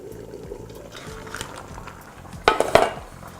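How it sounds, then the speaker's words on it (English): Crab curry bubbles in a pot as a soft steady simmer, then a pot lid or utensil clanks twice in sharp, close metallic knocks near the end. Nobody speaks. "It's now nicely boiling, you can hear the noise."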